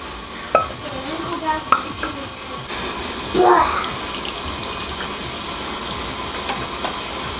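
Curdled whole milk being poured through a strainer for homemade cream cheese, with wet sloshing and splashing, a few light clinks of kitchenware and a burst of liquid running through midway.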